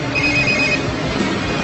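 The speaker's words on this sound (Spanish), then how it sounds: "le sonó el teléfono" Telephone ringing with a steady electronic ringtone tone, loud and close, sustained over a continuous noisy background.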